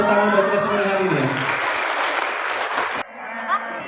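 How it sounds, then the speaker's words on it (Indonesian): An audience at an Islamic-school parenting class claps in a broad burst under a humming tone, which stops abruptly and leaves a quieter room with a faint voice. "Oke, boleh tepuk tangan buat kita semua hari ini ya."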